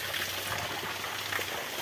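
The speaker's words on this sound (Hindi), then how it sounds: "किस तरह से गिर रहा है पानी" Water falling beside a main road near a hotel in Karbi Anglong, a steady, close rushing and splashing wash that holds at an even level throughout, with no voices over it.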